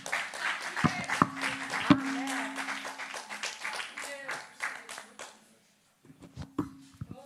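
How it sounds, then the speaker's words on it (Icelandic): A church congregation applauds performers, a brisk patter of clapping mixed with voices and some close, sharp claps that thin out and briefly fall silent before a few scattered claps resume. "Hvernig var að gefa þessum snillingum gott klapp?"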